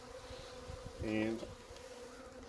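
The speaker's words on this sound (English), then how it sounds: "essentially now I'm just going to knock all these bees down in the box" Honey bees being rescued from a chimney and knocked into a box give off a low, steady hum that swells into a loud, close buzz for a moment before settling back to a faint drone.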